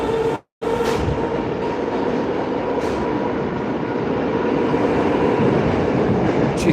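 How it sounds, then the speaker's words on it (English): A Moscow train pulls off fast at night, a loud, steady rumble and rattle of the cars that runs continuously apart from one brief break near the start, with no voices. "The train just pulled off really fast for a second."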